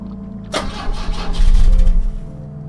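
A car engine in The Drifter video game cranks but does not fire, a sharp click followed by about two seconds of loud, close, grinding starter whirring that fades without catching.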